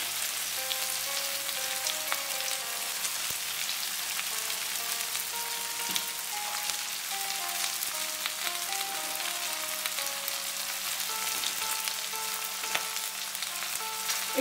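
Onions fry in hot oil for a mutton masala curry, a steady dense sizzle that continues evenly, close and alone, with faint scraping from occasional stirring.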